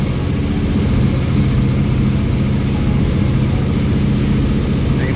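A carbureted engine idles steadily with its primary jets being swapped and tuned, a loud, continuous low rumble that holds even throughout with no talk over it.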